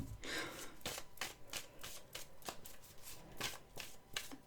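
A tarot deck being cut and reshuffled by hand, a string of soft papery riffles and slaps in an irregular rhythm, close but quiet over faint background hiss.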